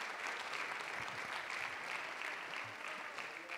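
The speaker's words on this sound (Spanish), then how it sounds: "Un aplauso para todos." Applause from a church congregation during a family presentation service, a steady even wash of clapping at moderate distance that holds for the whole stretch with no voices breaking through.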